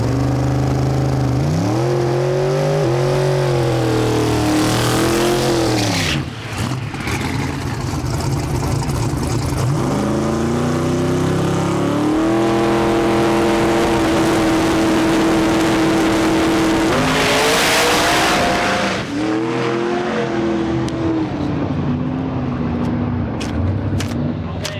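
A drag racing wagon making a full pass: the engine roars loud and close, climbing in pitch through repeated gear changes with brief dips between shifts, then fades near the end.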